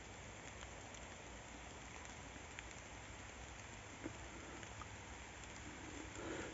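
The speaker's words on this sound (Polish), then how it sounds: "Wiecie, że pada deszcz?" Steady rain pours down in a dense, even hiss, with a few sharper drops landing nearby.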